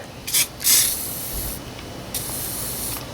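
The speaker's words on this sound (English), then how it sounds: "I'm going to spray her down." A spray can is spraying down a part of a Speedex S24 garden tractor under repair. Two short close hissing bursts come first, then two longer sustained sprays with a quiet pause between, and no one talks.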